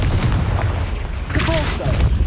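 Blasting spell explosions in the Hogwarts Legacy video game, booming blasts over a dense, continuous wash of game noise, with a brief voice cutting in near the middle.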